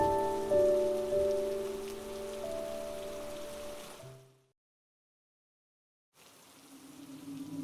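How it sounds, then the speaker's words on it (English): Rain pours steadily beneath soft sustained musical tones, then the sound cuts to complete silence for about two seconds before the downpour returns alone. "he hadn't even noticed when the rain started to pour"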